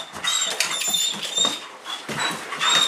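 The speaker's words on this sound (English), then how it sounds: "He's a puppy!" A puppy whimpering and yelping in a high, thin voice, close by, in short repeated cries with scuffling and pattering underneath, with no talking.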